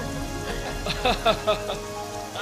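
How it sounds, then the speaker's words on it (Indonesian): Steady rain falls inside a monastery, a dense even hiss lasting throughout, with a few brief tonal sounds rising over it near the middle. "Sudah lama kering, sekarang hujan."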